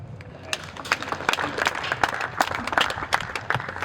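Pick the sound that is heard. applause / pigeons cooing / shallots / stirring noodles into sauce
applause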